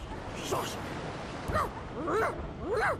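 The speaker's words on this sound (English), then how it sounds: "The dog whines and continues pawing at its nose." A dog in the video game Divinity Original Sin II whines in short high whimpers, three or four rising and falling cries spaced over a few seconds against a soft ambient hum.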